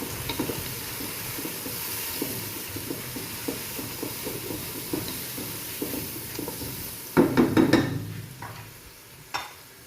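Onion and tomato frying in a pan, a soft steady sizzle with repeated light stirring scrapes, then a louder burst of hissing and clatter near the end as something is added or stirred, with no voices.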